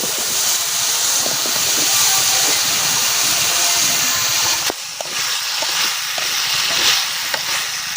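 Chicken feet cooking with turmeric powder in a pan over a village cooking fire, a loud continuous frying hiss and sizzle with faint crackles throughout, briefly dipping near the middle, no talking.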